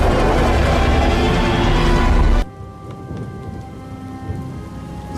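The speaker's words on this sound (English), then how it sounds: "The storm is receding." Heavy rain roars loudly with rumbling thunder during a fantasy-battle thunderstorm, then cuts abruptly about halfway to a much quieter, softer patter of lighter rain with faint distant crackles.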